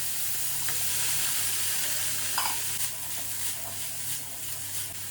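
Garlic and vegetables sizzle in butter in a pan, a constant loud frying hiss filling the whole stretch with a few faint stirring taps, no voices.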